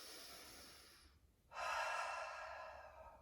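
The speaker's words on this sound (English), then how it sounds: "Make yourself big and take a deep breath in." A deep breath during a children's superhero yoga exercise: a long exhale, a short pause, then a strong, close inhale that fades slowly.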